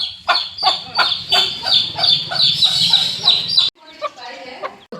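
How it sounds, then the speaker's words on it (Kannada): A mother hen guarding her chicks clucks loudly and repeatedly up close in a fast, jerky rhythm. Her calls fade to a few quieter clucks at the end. "ಕೋಳಿ ಒಂದು ಇಲ್ಲಿದೆ,"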